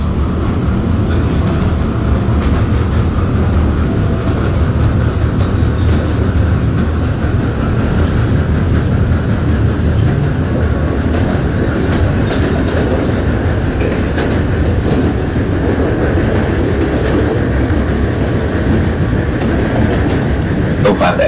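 An NYC Subway R160 train on the F line runs in the OpenBVE simulator, a loud continuous rumble of wheels with clickety-clack over rail joints, no talk.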